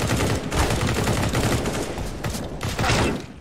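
Rapid bursts of gunfire in Counter-Strike: Global Offensive, dense overlapping shots that fill the whole stretch, loud and close, with a brief dip midway before another heavy volley.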